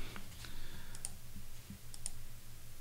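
Two quick computer mouse clicks, a double click, sound faint and close against a steady low hum while a clip is dragged in iMovie.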